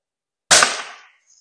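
A single sharp air rifle shot firing a heavy lead pellet at a target, one crisp crack with a short decaying tail, close and loud, then quiet.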